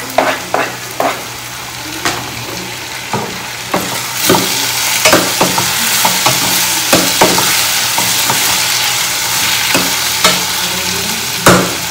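Tomatoes being stirred into potatoes frying in a pan, with loud constant sizzling broken by repeated scraping strokes of a spoon against the pan, close and without speech.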